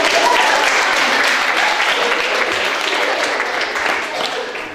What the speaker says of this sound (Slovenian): En aplavz za šefico.